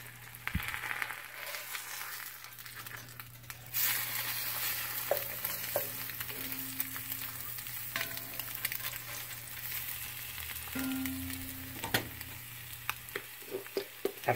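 Eggs sizzling in a hot pan for a breakfast sandwich, a steady fry with scraping and clinks as a spatula flips them, plus a faint low hum underneath.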